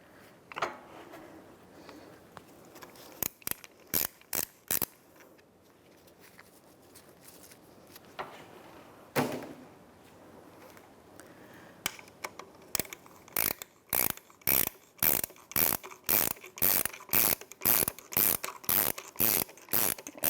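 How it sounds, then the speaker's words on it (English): A ratchet wrench tightening a new nut on a 2002-2005 Ford Explorer front shock absorber, sharp clicking strokes in short bursts, then a long fast rhythmic run of clicks, close and loud with no talk. "I'm going to start it with the wrench because I want to make sure it's"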